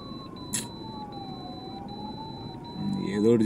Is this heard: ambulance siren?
yes